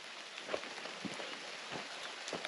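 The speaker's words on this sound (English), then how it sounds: "Think it's gonna rain all night." Rain patters on a tent at a wilderness campsite in bear country: a faint, steady hiss of drizzle with a few slightly louder individual drops striking the fabric, and no voices.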